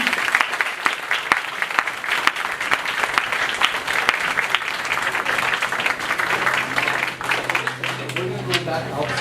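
An audience applauds after a school string performance. The clapping is loud and continuous, a dense spread of claps sustained throughout, with faint voices and crowd noise mixed in.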